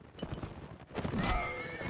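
A horse neighs loudly in a short whinny, preceded by faint hoof clip-clops, with no talking, in the video game Mount & Blade: Warband.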